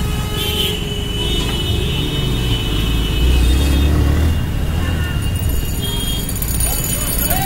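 Busy market traffic jammed with e-rickshaws in Saharsa during Diwali shopping, a steady rumble of vehicles and bustle close by, with people talking over it.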